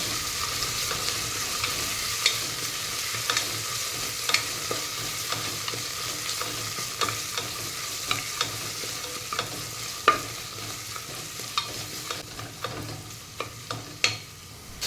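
Crushed green chillies, ginger and garlic sizzle steadily as they are sautéed in a pan for a chicken stew, with frequent close scraping taps of a spoon stirring throughout and no talking.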